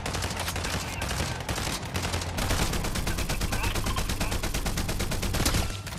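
Fortnite gunfire fills the whole stretch: dense, rapid, loud automatic shots firing almost without pause, with heavier bursts throughout.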